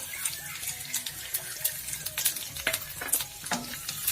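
Finely chopped garlic sizzles in hot oil with a pinch of asafoetida for pithla, with steady frying and repeated scraping and clinks of stirring, close and fairly quiet with no speech.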